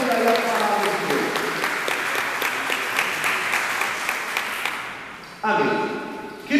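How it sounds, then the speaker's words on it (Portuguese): A church congregation applauds warmly, a dense sustained wash of clapping that fades slightly before a fresh burst near the end, with a voice faintly heard under it. "Uma salva de palmas linda, calorosa. Pode aplaudir aí a palavra de Deus."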